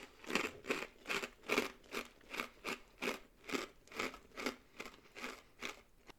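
Close, rhythmic crunching as a ranch-flavored Cheese Whisp cracker is chewed, about a dozen evenly spaced crisp bites over six seconds, alone and fairly quiet.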